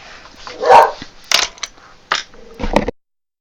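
Dogs bark indoors, sounding close and moderately loud, one longer bark followed by several sharper, shorter bursts before quiet.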